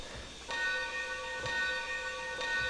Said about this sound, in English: Typical bell.